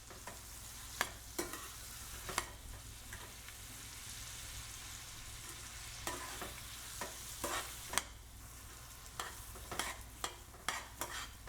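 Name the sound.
sauteing onions with turmeric in a pan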